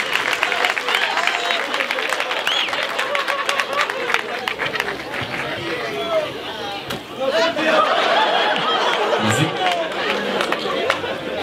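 An outdoor crowd watching two street comedians breaks into lively applause mixed with chatter, the clapping rising and falling under voices throughout.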